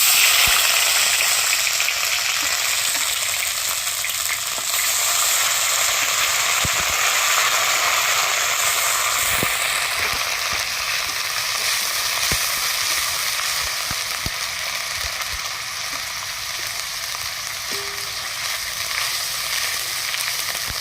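Ground mustard, onion and green chilli paste fries in oil in a pan with a loud, continuous hissing sizzle, broken by occasional sharp scrapes of a spatula and no talking.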